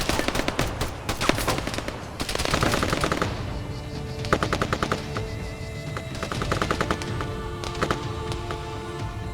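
Machine gun fire in the video game Arma III, loud sustained bursts and rapid volleys crackling almost without pause, with short gaps between strings of shots.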